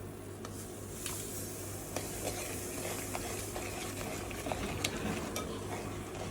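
A pot of water with green peas bubbles and simmers steadily before semolina is added for upma, with a constant soft hiss and small crackling pops throughout. No one speaks.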